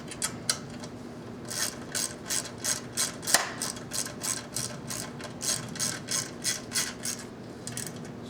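Rapid rhythmic clicking of a ratchet wrench snugging a bolt on a starter cover, a steady run of about twenty close, crisp bursts with one sharper clank midway.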